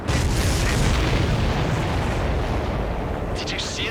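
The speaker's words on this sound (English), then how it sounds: "The missile hit the supply ship dead on." A missile strike on a supply ship in Ace Combat 7 sets off a loud, close explosion that becomes a sustained roaring rumble and fills the whole clip, with faint radio chatter underneath.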